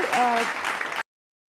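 Brief virtual applause from an online Toastmasters-style meeting audience, a short burst of clapping mixed with a voice, cutting off abruptly after about a second.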